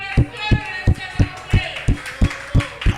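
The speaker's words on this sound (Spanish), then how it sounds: "Apláudalo, apláudalo un momento, apláudalo." A church congregation claps in worship, with steady, evenly spaced handclaps at a brisk beat that ring out over a sustained musical backdrop. No words are distinguishable.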